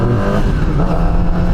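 A QJMOTOR SRK250RD 250cc inline-four motorcycle engine revs loudly and close by, a steady, dense, buzzing roar held without a break over a short stretch, with no voices.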